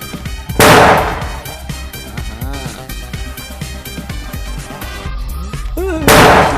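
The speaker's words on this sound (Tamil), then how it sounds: "நீ போட்ட வெடி சத்தத்துக்கு புறா போறவையெல்லாம் செதறி ஓடுதேடா" Two loud, sharp firecracker bursts set off for Diwali, one early and one near the end, with a busy stretch of music and voices playing between them.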